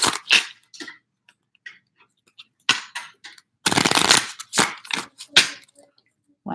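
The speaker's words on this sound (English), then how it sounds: "One more shuffle." Tarot cards are shuffled close by in several short, crisp bursts of riffling and flicking, with one longer dense rush in the middle, separated by quiet gaps and a few light clicks.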